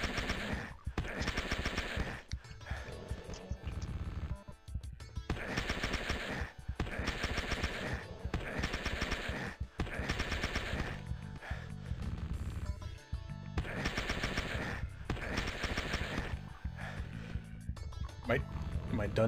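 Chaingunner enemy firing in the video game Hideous Destructor, rapid automatic bursts recurring in loud repeated clusters through the clip, mixed with other game sounds and a voice talking over much of it.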